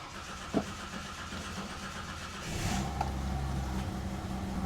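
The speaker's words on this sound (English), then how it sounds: "Just a little bit of choke. And she should start straight up." A 47-year-old car's engine started with a little choke: a brief cranking sound, then the engine catches halfway through and settles into a steady, close idle.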